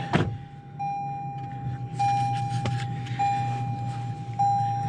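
A 2020 Toyota 4Runner TRD Pro fires up from inside the cabin: a brief starter burst, then a steady low idle with a thin tone chiming repeatedly on top.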